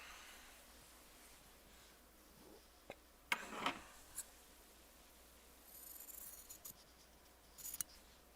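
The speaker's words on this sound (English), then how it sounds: "I snipped it in half" Scissors snip through a fabric strip in a quiet sewing room: a few short, faint cutting clicks, with light handling rustles before and after.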